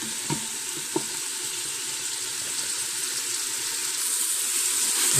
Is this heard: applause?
no